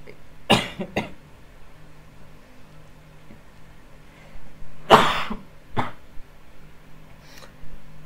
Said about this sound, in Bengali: অত্যাধিক সমস্যা করতেছে কাশিটা